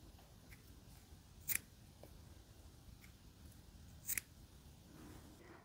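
Scissors snip through leftover yarn after crocheting a tulip-pattern tumbler bottle cover, two crisp, sharp cuts a few seconds apart against a quiet background with faint handling rustle.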